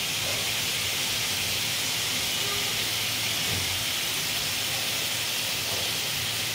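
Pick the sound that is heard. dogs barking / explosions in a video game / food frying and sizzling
food frying and sizzling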